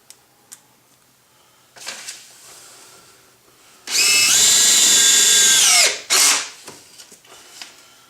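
A power drill driving screws into carpet in a 2015 Ford Mustang whirs loudly for about two seconds, then gives a brief second burst, with soft handling clicks and knocks around it.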